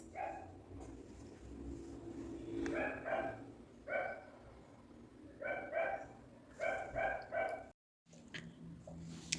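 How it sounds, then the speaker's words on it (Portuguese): A dog barks repeatedly at a distance, in short bursts of one to three barks separated by pauses, faint against a quiet indoor background with a brief dropout near the end. "aqui temos cachorro latindo"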